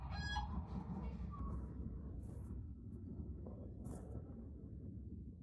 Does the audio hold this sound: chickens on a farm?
yes